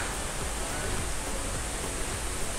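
Waterfall at Misol-Ha crashing down in a steady, dense roar of falling water, close and constant with no pauses, filling the whole scene with broadband rushing spray.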